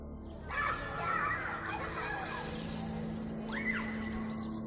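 Distant children's voices and playful shouts at a birthday party mingle with chirping birds outdoors, faint and lively, with no clear adult talk.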